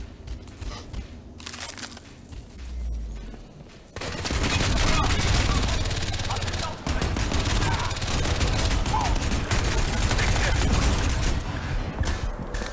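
Sustained gunfire in the video game Crysis 2 fills the scene, with bursts of automatic weapon fire and dense, continuous shooting that grows louder partway through, mixed with game effects.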